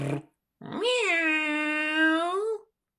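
A person imitates a cat's meow, one drawn-out, tonal mew that rises then slowly falls, heard close and alone after a brief noise.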